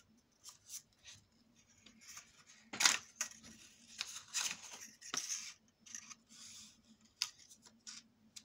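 Scissors snip excess paper for an autumn scrapbook album in a quiet room: a series of short, crisp cuts and rustles, irregularly spaced and close, with one louder snip near the middle.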